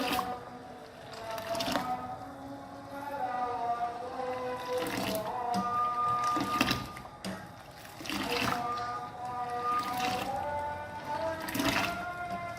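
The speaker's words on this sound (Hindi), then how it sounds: "अब इसको हम और फेंटेंगे" Kashmiri pink tea being whisked hard after cold water is added: a run of wet, sloshing liquid bursts in an uneven rhythm, close and moderately loud, over a steady tonal background.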